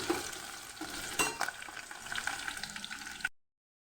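Onions and green chillies frying in a pan, a steady close sizzle with stirring scrapes and clinks running throughout.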